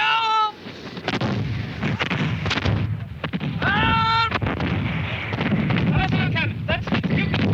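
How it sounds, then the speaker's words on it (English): Cannon fire from Cumberland's artillery batteries at the Battle of Culloden, a dense barrage of loud booming shots that roll continuously, with shouting voices and talk layered over the thunder. "That's Cumberland's cannon."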